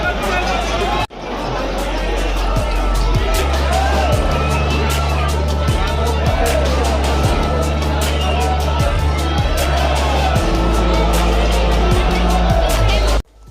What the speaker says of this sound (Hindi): देख सकते हैं आप मेरे पीछे कितनी भीड़ है यहाँ पे